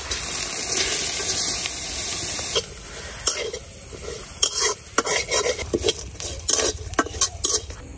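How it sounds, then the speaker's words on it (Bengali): Dried kachki fish dry-roasted and stirred in a pan, a steady hiss and sizzle for the first few seconds giving way to irregular scraping and clinking of a utensil against the metal, close by with no voices. "এখন শুকনা খোলাই শুটকি গুলা ভাইজা নিলাম।"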